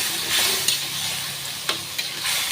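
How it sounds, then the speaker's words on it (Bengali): Spices, tomato and onion sizzle in a hot pan while a spoon stirs them, a steady close frying hiss broken by a few sharp scrapes and knocks of the utensil, with no voices. "যতক্ষণ না টমেটো পেঁয়াজটা মিশে না যাচ্ছে ততক্ষণ ভালো করে কষিয়ে নেব"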